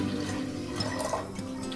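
Water pours steadily into a pot holding soaked dal on a gas stove, a brief close rushing splash of under two seconds.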